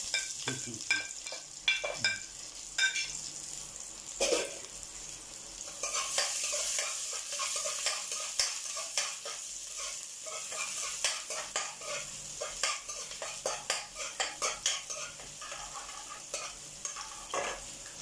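Onion and garlic sizzle in a pan for pancit canton, a constant crackling fry under repeated scraping and clinking of a spatula or spoon stirring against the metal, close and without talk.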